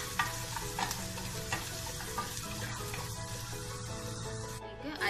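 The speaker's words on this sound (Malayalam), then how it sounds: "വെളുത്തുള്ളിന്റെയും ഇഞ്ചിന്റെയും പച്ച ചുവന്ന് മാറുന്ന വരെ ഒന്ന് വഴറ്റി കൊടുക്കുക." Crushed garlic and ginger sautéing in hot coconut oil for a Kerala-style prawn roast, a steady close sizzle with occasional stirring scrapes throughout, no voices.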